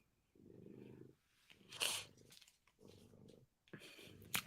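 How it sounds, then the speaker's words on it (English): Domestic cat purring close by, the low rumbling throb rising and falling in steady breath cycles, with a few brief rustles between. "Miss Kitty sitting next to me and purring."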